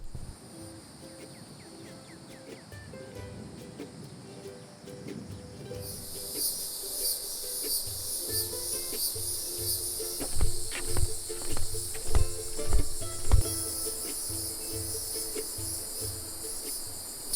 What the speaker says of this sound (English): Some cicadas emerge from the mud every year.